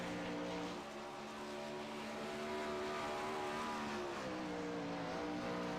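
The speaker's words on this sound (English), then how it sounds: "Right now, John Harper out on the track in his blue and white sprint car." A blue and white 410 sprint car runs laps during qualifying at Volusia, its engine a steady loud roar that rises and falls in pitch as it drives around the dirt track, with no voices over it.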